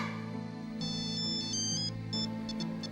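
A phone plays an electronic melodic ringtone, steady and fairly loud, with repeated short tonal phrases and no speech.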